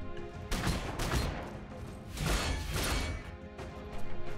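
Gunfire from units in the turn-based strategy game Warhammer 40k Gladius: Relics of War, heard as repeated bursts of crackling shots and crashing impacts arriving in three or four volleys, fairly loud and with no talk.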